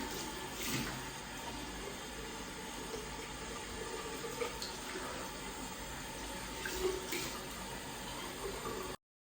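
A bathroom tap runs steadily into a sink during face washing. The hiss of flowing water is soft and continuous, with faint splashes as hands move through it, and it cuts off abruptly at the end.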